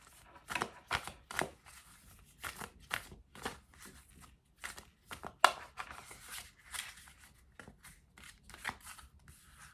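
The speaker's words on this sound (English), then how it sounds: "let me get one of the oracle cards" Oracle cards being shuffled and drawn by hand: a close series of soft, quick riffles, flicks and taps at an uneven rhythm, with no talking.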